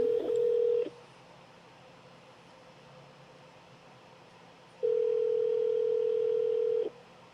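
Telephone dial tone heard while a call is placed, a steady continuous tone in two long bursts separated by a few seconds of quiet line hiss, close and fairly loud.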